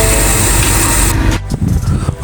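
A 2017 Ford Mustang EcoBoost from a bank repo, running just after a cranky start: a steady loud engine drone that suddenly dips, then rumbles on with rougher, uneven pulses.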